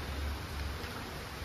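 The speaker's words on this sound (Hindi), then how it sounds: "तो फाइनली आज बारिश हो गई" Steady broadband rain hisses outside on a village morning after a night of downpour, a constant soft wash with no voices or other distinct sounds over it.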